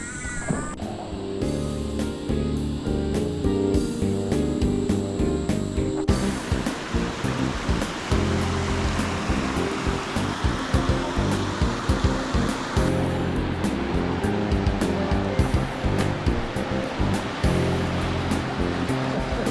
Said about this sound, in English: The water comes rocketing down through there into a big water hole there